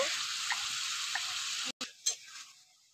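Chicken curry sautéing in a pan over a clay stove, a steady frying hiss with soft stirring scrapes; the sizzle cuts out briefly near the end, then returns with a sharp clatter and fades.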